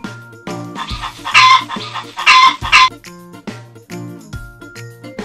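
A hen clucks in bursts over a soft background, with louder squawking clucks in the middle; several short clucks in an irregular rhythm.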